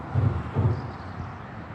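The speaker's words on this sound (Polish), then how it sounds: "Samochody nad nami przejeżdżają." Cars passing over a bridge overhead, heard from below as two deep low rumbles in quick succession, then a fading hum.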